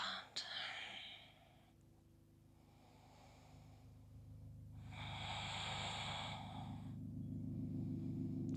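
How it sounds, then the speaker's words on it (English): Slow, deep yoga breathing, a long airy inhale and exhale heard close over a steady low background hum, with a soft breathy sound at the very start. "Taking full breaths in and full breaths out."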